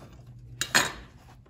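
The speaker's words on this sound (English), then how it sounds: "I've got some amazing Turkish bread over here. I'm gonna cut myself a slice of that." A knife slicing through a loaf of Turkish bread on a kitchen board, with two short crisp scraping strokes close by, the second louder and longer, against a quiet room.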